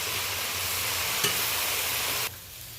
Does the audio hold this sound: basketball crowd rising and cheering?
no